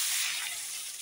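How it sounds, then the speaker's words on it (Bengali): Pieces of pointed gourd (potol) fry in hot oil for a vegetarian offering, giving a steady, close, bright sizzling hiss that holds evenly throughout with no voices. "এখানে পটলগুলো ভেজে নেব।"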